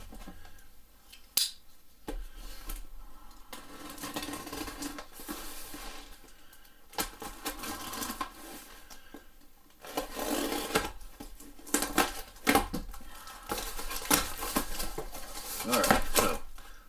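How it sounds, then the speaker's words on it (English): A cardboard shipping box holding an Amazon Basics medicine ball is cut open, giving a run of scraping, tearing and rustling from the blade and the cardboard, close up, with some talking in the background. "So we'll cut it open and you can get a look at how they pack them"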